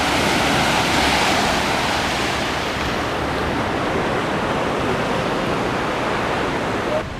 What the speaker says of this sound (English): I could just sit back and listen to the waves and be one with the water.